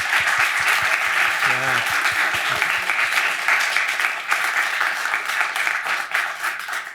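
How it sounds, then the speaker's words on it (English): An audience applauds panelists at the closing of a university global dialogues event, a dense, sustained wash of clapping from a large crowd, with a few near, distinct claps early on. "Let's give them a round of applause"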